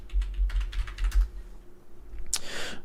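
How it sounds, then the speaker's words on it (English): Rapid typing on a computer keyboard while searching for Mortal Kombat, a close burst of clattering keystrokes followed by a short pause and then a final sharp clack with a rustle. "Oh, Mortal Kombat is what I typed in."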